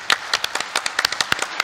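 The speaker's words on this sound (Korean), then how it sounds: "힘찬 박수를 부탁드립니다." Short burst of applause at a KAIST 50th anniversary ceremony: scattered, moderately distant hand claps from an audience, uneven and fairly light, with no talk over them.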